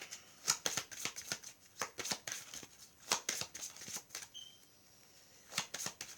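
Tarot cards are shuffled close by in quick, soft riffling bursts with small pauses, quiet and crisp, with no talking.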